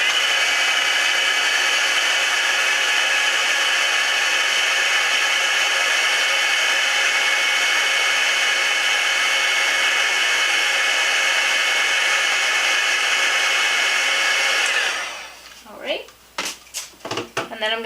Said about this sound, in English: I'm going to use my heat gun to set the white ink that we just used